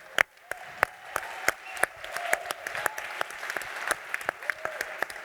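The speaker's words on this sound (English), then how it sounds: "Let's give a round of applause to Sue for putting this on." Audience applause at a leadership summit: a moderate crowd clapping with sharp individual claps standing out, steady and fairly close, with faint voices underneath.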